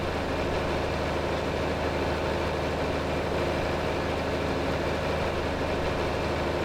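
Tractor engine in the Farming Simulator video game, driving down a road with a bag of seeds swinging, a steady, loud, low rumbling drone that holds constant throughout with no talk.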